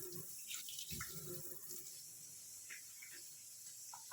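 Water running from a kitchen tap while a lemon is washed, a faint continuous hiss with a few splashes and soft handling sounds.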